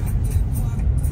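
A car pulls away with a low, steady engine rumble, heard close and briefly.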